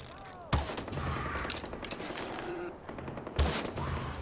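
Gunfire in Far Cry 4 comes as two sharp, loud shot bursts a few seconds apart, with mechanical rattles and faint voices between them.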